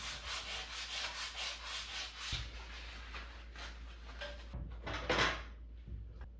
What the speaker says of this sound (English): Oh, I forgot I needed to sand that part.